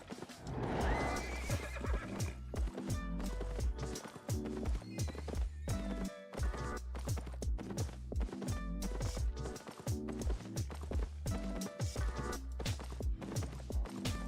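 Tier 4 horse in Albion Online whinnying near the start, then galloping with steady, rhythmic, close hoofbeats that carry on to the end.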